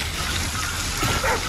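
A dog barks in the video game Call of Duty Ghosts, with short barks set against a dense, noisy game ambience that has a watery, splashing texture.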